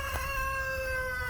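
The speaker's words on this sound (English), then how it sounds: "I pause for the roosters." A free-range rooster crows faintly in the background, a thin sustained call running steadily over a low outdoor murmur.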